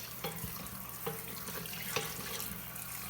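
Cooked pasta shells rinsed under a running kitchen tap, a steady broadband rush of water into a sink with a few brief clatters and splashes, moderately faint and with no voices.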